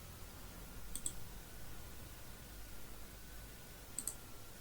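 A computer mouse clicks twice, each a sharp, faint single click about three seconds apart, over quiet room hum with no talking.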